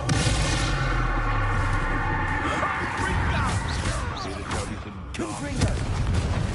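Confringo blasting-spell explosions in Hogwarts Legacy: repeated booming blasts and crackling bursts over dense, continuous game effects, with a voice shouting among them.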